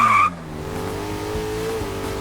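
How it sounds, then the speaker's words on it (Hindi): Car peeling away with tires skidding in an animated comedy scene: a sharp screech opens loudly, then the engine drones on and pulls away steadily, with no talk. "अरे मुंशी गाड़ी लेकर भाग रहा है"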